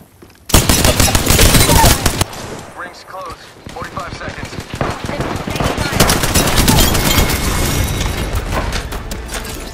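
Dense automatic gunfire in Apex Legends rattles in rapid bursts, loud and close, with a brief lull before the shooting resumes and keeps crackling steadily to the end.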